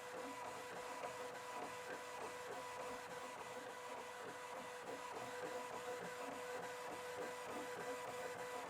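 A Bambu Lab P1P 3D printer running fast while printing PLA, with a continuous stepper-motor whine and rapid buzzing head movements, faint and mechanical with no talking.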